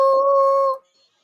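A female dog lets out a single loud, close, sustained howl, one steady tone holding for most of a second before cutting off into silence.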